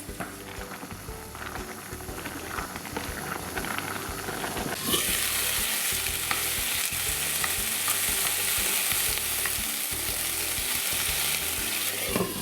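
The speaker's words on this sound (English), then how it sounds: "We've got our chicken still going here, so that's frying away." Chicken sizzling and frying in a pan, a steady hiss that grows louder and brighter partway through, with faint stirring clatter underneath.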